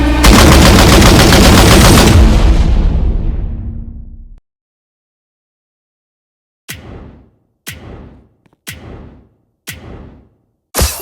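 Gunfire from the video game TDS Origin: a long loud burst of rapid automatic fire fades out, then after a short pause five sharp single shots ring out at a steady pace, close and alone with no voices.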